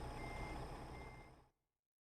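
A heavy truck in American Truck Simulator reverses with steady backup beeps over a droning engine, fairly loud, before cutting off abruptly into silence.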